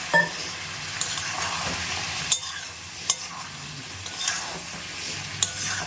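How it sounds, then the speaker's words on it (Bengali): Soybeans stir-fry in a pan with a soft continuous sizzle, broken by a few sharp clinks of a spatula or spoon against the metal. The sound is quiet and close. "চলো ভালো সোয়াবিনটা কষায় দেখতে তো খুব সুন্দর হয়েছে খেতেও আশা করি ভালোই হবে"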